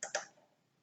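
Two quick, faint plastic clicks sound close together as keypad buttons are pressed on a frequency inverter control panel.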